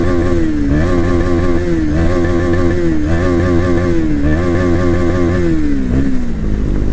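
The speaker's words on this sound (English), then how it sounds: "Duke 250 BSX ni RPM sound" A KTM Duke 250 motorcycle engine revs loudly and continuously, its pitch climbing and dropping in repeated surges as the throttle is blipped, with no talking.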